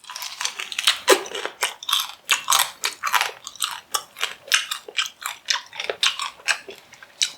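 Crispy fried pork knuckle skin, Filipino crispy pata, crunched in repeated sharp bites, a quick, steady run of close, loud crackling chews with no talking.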